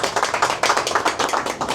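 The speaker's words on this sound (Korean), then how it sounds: "박수로 모시겠습니다." Audience applause welcoming a lecturer, a former battery sales manager, at an alumni lecture gathering: a short burst of steady, fairly loud clapping from a small group, with no talking over it.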